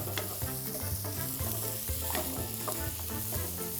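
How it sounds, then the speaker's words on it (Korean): Dried shrimp and cocktail shrimp stir-fry in a pan for pad thai, with a dense continuous sizzle and frequent scraping stirs, close up and with no talk. "원래는 이렇게 새우 볶은 다음에 새우만 꺼내서 따로 빼놔요."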